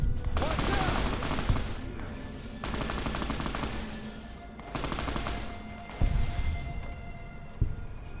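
Bursts of gunfire in Fallout: New Vegas, a few sustained volleys with sharp single shots between them, loud and close over a steady game background with no talk.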